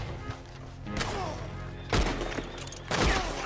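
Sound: gunfire in video game Red Dead Redemption 2

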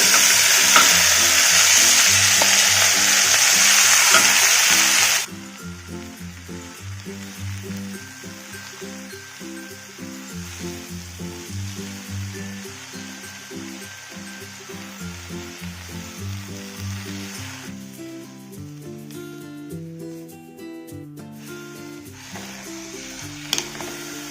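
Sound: chopped fenugreek added to hot oil with cumin and garlic, frying

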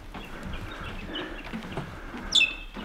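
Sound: birds singing at Cradle Mountain, Tasmania

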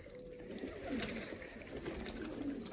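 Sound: pigeons cooing in their loft

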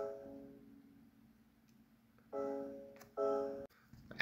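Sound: layered keys melody in FL Studio

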